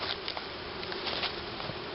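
A dense, steady buzz of honeybees fills the air at close range during a hive inspection, continuous with no pauses.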